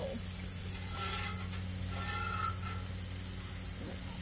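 Steak bites sizzle on a Blackstone flat-top griddle with garlic butter, alongside green beans and melting cheese, a steady close frying hiss with a brief stir in the middle and no talking.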